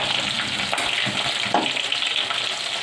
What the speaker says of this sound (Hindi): अब दूसरी साइड से भी फ्राई कर लेंगे।